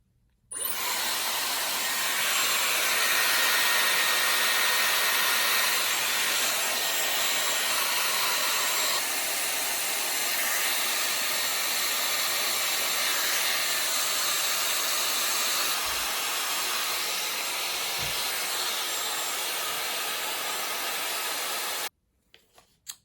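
A Dyson hair dryer blows steadily at close range on damp hair, a continuous broadband airy roar with a faint high whine, running unbroken for about twenty seconds before cutting off abruptly.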